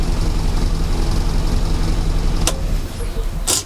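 1970 Morris Minor car engine running steadily, a loud close rumbling idle with a couple of sharp clicks near the end.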